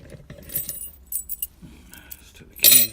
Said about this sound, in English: let's take the keys off.